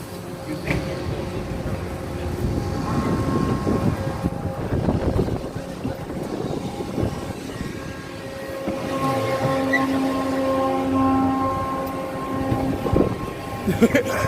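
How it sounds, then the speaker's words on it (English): Paratrooper carnival ride running on a cold fairground midway, a steady mechanical rumble and whir with wind noise, a sustained tone rising midway through, and voices talking faintly throughout. "So this is the Paratrooper. It is one of the best rides out on the Midway."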